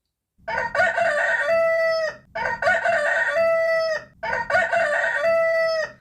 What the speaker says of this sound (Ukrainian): це півник